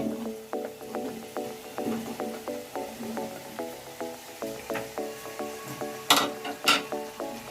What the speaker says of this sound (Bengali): এবার ফুলকপিগুলো দিয়ে দিচ্ছি তেলের মধ্যে